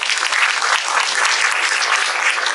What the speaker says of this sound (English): A big round of applause for Sandeep Bhaiya.